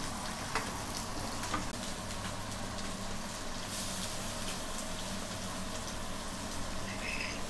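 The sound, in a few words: onions frying in a pan for fish curry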